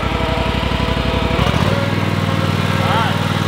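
A Cub Cadet riding lawn mower with GPS auto-steer drones steadily close by, its engine note shifting about halfway through as more throttle is given, then holding at the new speed.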